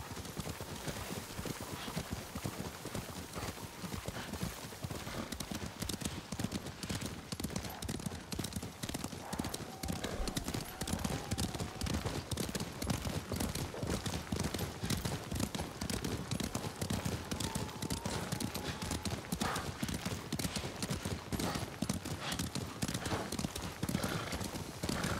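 Horse hooves in the video game Ghost of Tsushima, a rapid, continuous clip-clop of riding horses over a steady ambient wash, with brief whinnies and quiet voices in the mix.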